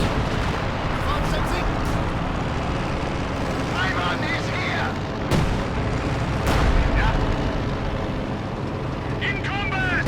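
Howitzer artillery booms in a Company of Heroes 2 match, a few heavy blasts thudding under continuous battle noise and a commentator's steady talk.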